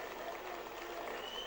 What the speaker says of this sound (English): because they're clapping